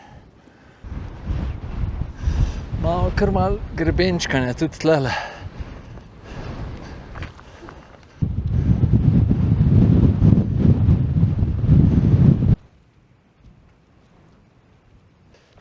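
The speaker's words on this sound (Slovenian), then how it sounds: "tale veter je prav zopren" Strong wind buffets the microphone on a mountain ridge near the Košuta summit, rumbling loudly in long gusts while someone talks over it, then suddenly dropping to near quiet.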